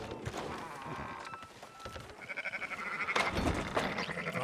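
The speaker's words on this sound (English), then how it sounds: "Fine sheep." Sheep bleating in the Red Dead Redemption 2 video game, a few wavering bleats from one or more animals, mid-distance, over ambient outdoor game sound.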